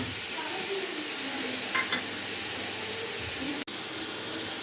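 Chopped tomatoes sizzle steadily in a hot pot of biryani base while being stirred, with a few soft scrapes and one sharp knock against the pot.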